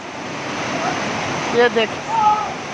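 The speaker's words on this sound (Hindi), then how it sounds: "ये पानी आ रहा है" Water rushes through the gates of Jatlan Head headworks, a steady broadband roar like surf that runs through the whole clip, with voices talking over it.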